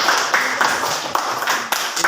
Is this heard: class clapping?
yes